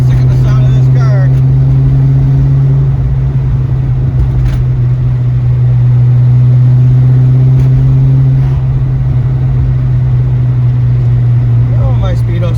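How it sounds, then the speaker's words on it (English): A 1986 Ford Capri engine drones steadily while driving, a loud low hum that holds through the whole stretch with a slight rise in the middle and faint noise from the road and wind on top. "I will say this though, I will never get sick of the sound of this car."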